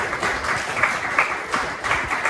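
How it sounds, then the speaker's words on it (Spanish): A church congregation applauds during a Spanish-language sermon, a dense, even wash of clapping at fairly close range with no speech over it. "ese aplauso del Señor"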